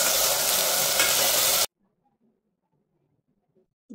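Mutton curry masala fries and is stirred in a pan, a loud, close, steady sizzle with stirring scrapes that cuts off abruptly into near silence.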